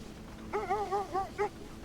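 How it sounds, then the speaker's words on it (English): A dog in the video game Kona 2 Brume gives a series of about five short, tonal yelps in quick succession. They sit over a steady low background hum from the game, with no talking. "You damn dog."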